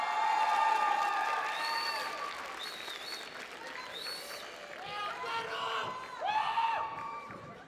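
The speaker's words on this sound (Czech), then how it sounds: "Velký potlesk." The audience at the Animefest 2019 FestDance breaks into loud, sustained applause mixed with cheers and high whoops from the crowd. It swells again near the end before fading.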